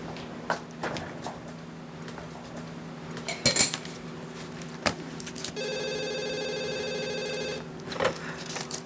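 A telephone rings with a sustained electronic bell tone lasting about two seconds, preceded by scattered clinks of dishes and cutlery in a quiet room.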